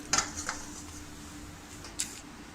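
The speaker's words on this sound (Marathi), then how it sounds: "आता आपल्याला याचे मध्यम आकाराच्या आपल्याला वड्या कापून घ्यायच्या आहेत" Knife cutting cooled kothimbir vadi, Maharashtrian coriander fritters, into pieces: a few sharp, brief clicks of the blade striking the plate or board, spaced apart over a quiet background.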